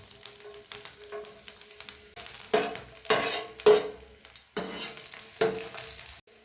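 Chopped garlic hits hot oil in a pan and fries with a steady sizzle, broken by several louder bursts as a spoon stirs and scrapes against the metal, close by and without talk.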